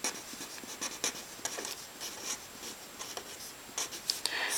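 Pen or marker strokes scratch out an equation by hand, with short irregular bursts of writing separated by brief pauses, close and fairly quiet with no talking.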